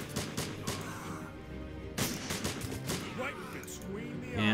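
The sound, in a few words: gunfire and artillery in Blitzkrieg 3 video game battle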